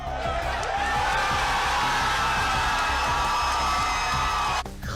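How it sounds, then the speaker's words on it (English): A crowd cheers at full volume, dense whooping and shouting with clapping underneath that holds steady, then cuts off abruptly near the end. "clapping and screaming and shouting like this"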